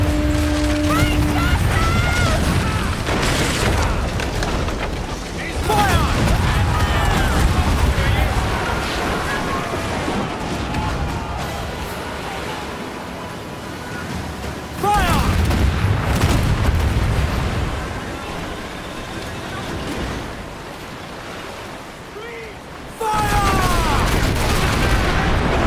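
Ship cannons fire in rolling fusillades during a naval battle in Assassin's Creed Black Flag, with loud, deep booms arriving in repeated bursts and crackling volleys, separated by brief lulls, with faint voices in the mix.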